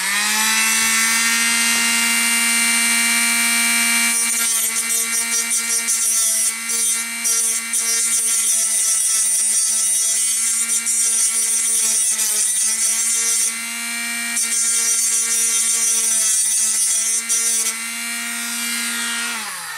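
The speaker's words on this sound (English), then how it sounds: "the nice thing too about the Dremel is you can clean up this little stump that's left behind" Dremel rotary tool grinding down a cut stump on model railroad track, a loud continuous high-pitched whine that dips and rises in load as the bit contacts the metal, running close up throughout.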